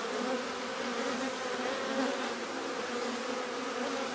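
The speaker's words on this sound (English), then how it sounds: "I got a few bees that are a bit. They're not stingy, but they're defensive." Honey bees buzz steadily around a hive feeder, a dense, continuous drone of many wings close by, with no voices.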